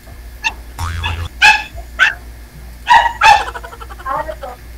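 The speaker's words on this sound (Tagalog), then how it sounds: "Sa aso ninyo, hindi tayo magkarinigan." Several sharp dog barks and yips ring out close by, mixed with people talking.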